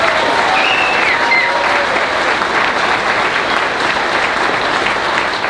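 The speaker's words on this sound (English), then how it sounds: "Let's give her a big round of applause." A crowd at a WEXIT political rally in Edmonton gives sustained applause, thick continuous clapping from many people at even loudness for several seconds, with a few faint whoops above it.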